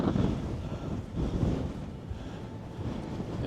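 Strong coastal wind in Scotland buffeting the microphone, a low rumbling roar that swells and eases in gusts, with a faint wash that may be sea in the background.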